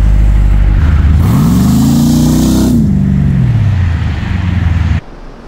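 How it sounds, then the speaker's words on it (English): A Jeep engine on a grassy trail revs hard and climbs quickly to a loud, sustained bounce against the rev limiter, then drops back to idle and cuts off abruptly. "It's so low, it just hits the rev limiter immediately."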